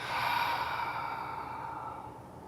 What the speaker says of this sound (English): Take a big breath in. Open mouth exhale.